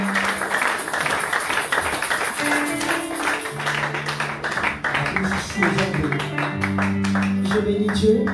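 A church congregation claps and taps in a busy, rhythmic patter under a speaking voice and sustained organ or keyboard chords that rise toward the end.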